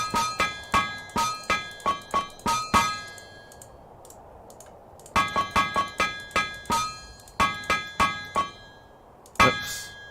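Repeated bright metallic clangs from a hammer welding metal in Minecraft TerraFirmaCraft, struck in quick rhythmic bursts of about eight to ten blows, separated by a short pause, loud and close with ringing overtones.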